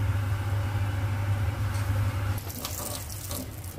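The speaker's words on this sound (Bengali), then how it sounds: "এবার এখানে 1 কাপ মতো ডাল ধোয়া হচ্ছে।" A cup of moong dal being washed under running tap water for khichdi; a steady close stream of water, with the splashing changing partway through as the lentils are stirred.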